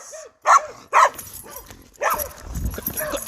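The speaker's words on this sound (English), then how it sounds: "This dog right here is trying to make a mess." A wild street dog gives two sharp, loud barks close by, with high whimpering whines between and after them, then a burst of louder mixed yelping and scuffling toward the end.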